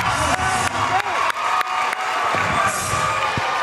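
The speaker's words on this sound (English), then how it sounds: "Crowd goes wild." A boxing crowd roars and cheers steadily as the final bell ends a close fight between Rashard Hicks and Ivan Vazquez, a dense wall of voices with an announcer talking over it.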